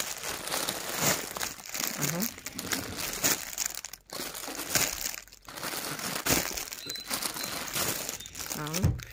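A plastic bag rustles and crinkles almost constantly at an exhibition of handmade antiques, loud and close, while a person talks over it.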